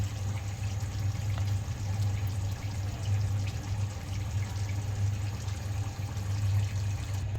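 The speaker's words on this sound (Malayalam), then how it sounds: "ഇനി നമുക്കിതിലേക്ക് കുറച്ചധികം വെളിച്ചെണ്ണ ഒഴിച്ചു കൊടുക്കാം." Coconut oil is poured into a hot pan on the stove, giving a soft continuous liquid sound over a steady low hum, without talk.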